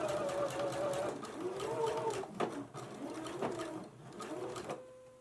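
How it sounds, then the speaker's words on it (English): A home sewing machine stitches a 5/8 inch seam in short motor runs with pauses, a close buzzing whir that rises and falls, sharing the space with soft cooing and chatter in the background. "now we can stitch across at 5/8 of an inch seam allowance"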